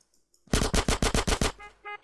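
Rapid automatic gunfire in GTA San Andreas, a tight burst of about seven loud evenly spaced shots with a short ringing tail, no talk.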